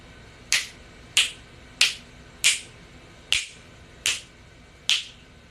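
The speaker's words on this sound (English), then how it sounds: "I'm going to be snapping my fingers very rapidly just to raise the vibration up" Seven sharp finger snaps in a quick, even rhythm, each crisp and close, with quiet gaps between them and no other sound.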